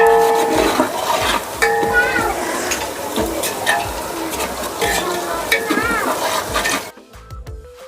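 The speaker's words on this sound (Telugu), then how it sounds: "ఉల్లిపాయ పచ్చిమిర్చి వేసి అవి బాగా గోల్డెన్ బ్రౌన్ కలర్లో వచ్చేంత వరకు ఫ్రై చేయాలండి" Onions and green chillies fry in oil in a large pot for biryani, with loud, steady sizzling and frequent stirring scrapes and clatter close by, then the sound drops away near the end.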